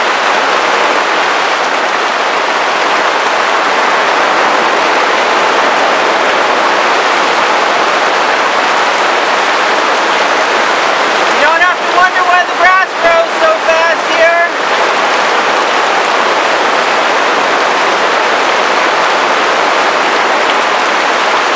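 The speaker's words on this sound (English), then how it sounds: "That's a lot of rain." Heavy rain pours down in a dense, loud, steady hiss throughout, with a person speaking briefly near the middle.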